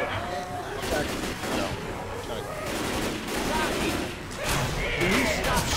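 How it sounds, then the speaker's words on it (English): Gunfire in the zombie shooter Left 4 Dead: dense, continuous bursts of rapid shots and thuds, loud throughout, with voices mixed in. "Can you stop shooting?"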